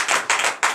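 Clapping during a morning prayer service in acclamation of the Lord Jesus, three sharp, evenly spaced claps close by with a brief ring after each, no voices.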